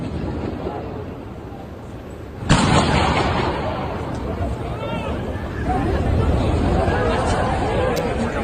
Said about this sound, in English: two gunshots, viewers, as you can see and hear in that video,